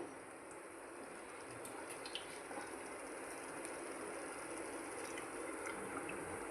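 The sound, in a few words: water being poured into pan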